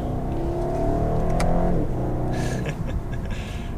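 A 2020 BMW 750i xDrive with a turbo engine accelerates hard up an on-ramp. The steady rising engine drone runs throughout with a gear shift partway through, heard from inside the cabin under road and wind noise.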